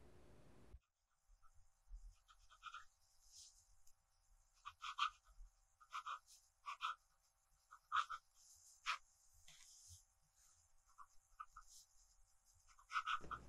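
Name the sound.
Sailor 1911 zoom nib fountain pen writing on paper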